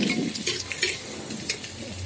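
Ginger frying in ghee for millet daliya, with a close sizzle and quick stirring scrapes and light pan contact throughout.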